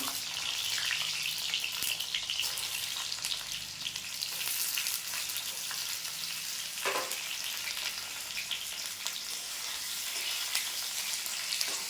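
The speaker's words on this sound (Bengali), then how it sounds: "আলুটা ভেজে নেবো একটু।" Potatoes fry steadily in a pan for a shrimp and jackfruit dish, giving a continuous, fairly loud sizzle with a brief louder burst midway and no voices.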